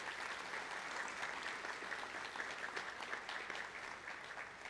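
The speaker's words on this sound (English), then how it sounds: "Let's give her a round of applause." Steady audience applause fills a senior reception honoring scholarship recipients, a dense, even wash of many hands clapping that holds at a constant level throughout with no speech over it.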